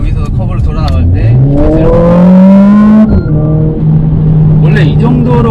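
A 2020 Mercedes CLA45S AMG with 421 horsepower accelerates out of a curve, its engine note rising steadily in pitch as it revs, loud and close, then dropping back to a steady drone.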